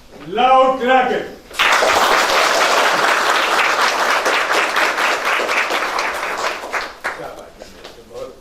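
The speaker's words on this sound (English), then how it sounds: "Loud clapping." Loud applause from a seminar audience at Oriental University in Indore, India, breaks out after a brief voice and holds steady as dense clapping for several seconds before tapering off.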